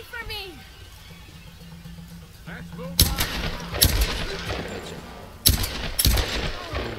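Gunfire in the video game Tomb Raider, several sharp loud shots in two clusters over background game sounds, with a voice talking throughout.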